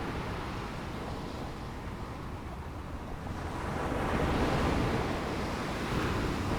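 Ocean waves wash steadily onto a shore as a continuous broadband surf roar, swelling slightly louder midway, with some wind noise on the microphone and no voices.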